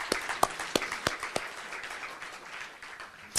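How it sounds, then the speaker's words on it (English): Scattered clapping in a city meeting room: a few sharp, evenly spaced claps start it, then a thin, steady patter of applause from the audience follows at moderate distance. "I'll clap first."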